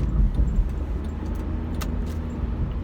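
Inside a car moving through downtown traffic, a steady low engine and road rumble runs throughout. Faint light rattles and clicks sound briefly near the middle, and nobody speaks.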